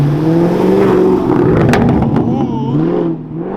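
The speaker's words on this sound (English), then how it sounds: "Max wanted me to record the Camaro. He said he's gonna make it pop." A Chevrolet Camaro V8 engine rumbles loudly close by, its note rising and falling with a revving surge before settling, while a voice speaks faintly underneath.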